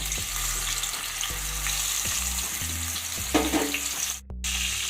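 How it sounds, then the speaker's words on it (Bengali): Ground spice paste sizzles steadily in hot oil, a loud continuous frying hiss with periodic low knocks from stirring, a brief burst of louder spattering near the end followed by a momentary drop. "এবার আমি দিয়ে দেব গুঁড়ো মশলার সেই পেস্ট"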